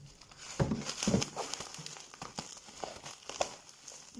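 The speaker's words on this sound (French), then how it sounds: "Alors je vais donc vous le déballer" A plastic package holding artificial sand for a zen garden being unwrapped, with close, crisp crinkling and rustling in irregular bursts, louder early and then lighter handling noises, with no talking.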